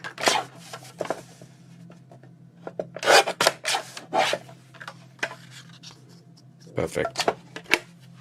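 A piece of card is cut down in several short, rasping scraping strokes close by, coming in clustered bursts with pauses, and a voice speaks briefly.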